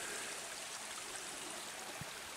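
Mountain streams rushing through forest, a steady broad hiss of flowing water near the listener with no voices.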